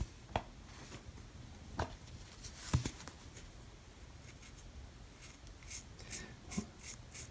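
A Sharpie marker scratches short strokes across a sock, producing soft, dry scraping bursts at irregular intervals and faint rustling between them. Nobody talks over the sound.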